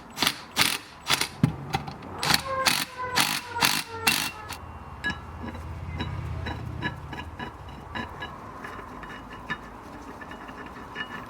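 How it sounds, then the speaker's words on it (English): A ratchet tightening nuts on a bearing separator during rear wheel bearing work on a BMW 325i E90: quick rhythmic clicking bursts up close, then quieter scattered clicks and faint background hum. "Tighten the nuts on each side."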